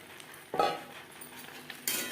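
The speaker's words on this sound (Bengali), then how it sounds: "এবারেতে দিয়ে দেবো আলু পটল" Potatoes and pointed gourd drop into a spice paste frying in oil, setting off two short bursts of sizzle among faint clinks of a utensil against the pan.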